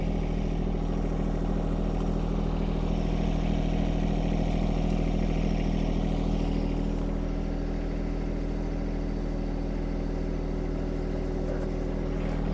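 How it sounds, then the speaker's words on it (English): A John Deere 1025R compact tractor with a 260B backhoe idles and creeps in reverse, its engine a steady, moderately loud mid-pitched drone with faint clatter throughout. "So let's move the tractor back a little bit more."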